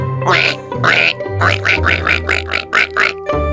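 A person imitates a duck with a loud run of nasal quacks, a couple of separate calls followed by a quick rhythmic burst of about eight, close and alone.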